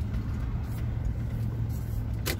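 A big truck rumbles nearby, a steady low engine drone that holds at an even level throughout, with faint traffic noise above it and no voices.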